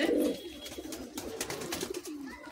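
Kamagar pigeons, a caged breeding pair in Kolkata, coo softly in low, rolling throaty phrases that repeat across the stretch, fairly close but not loud, with no talking over them.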